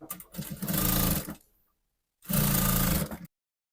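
Sewing machine stitching kimono jacket fabric in two steady, loud runs of about a second each, separated by a short pause and followed by silence.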